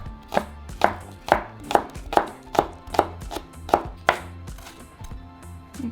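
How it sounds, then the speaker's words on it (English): A knife chops green onions on a cutting board while potato cakes are being prepared. About ten crisp, evenly spaced thunks sound close and clear, each a sharp tap against the board, with no talking over them. "I'm going to begin by cutting my green onions"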